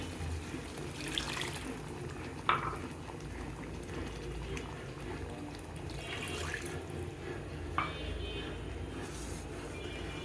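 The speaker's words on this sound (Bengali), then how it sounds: "এখন আমি ঝোল ছেড়ে দিব।" Water pours into a pan of curry to make the broth, a steady rushing, sizzling wash of liquid over a hot base with a couple of faint clinks, moderately quiet and continuous with no speech.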